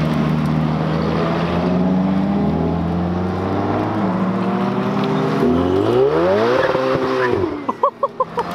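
Ferrari supercars, including LaFerraris, TDFs and 812s, rev and accelerate loudly up close during an owners' rally across Italy with a police escort, engine tones rising and falling steadily before a few sharp revving bursts at the end.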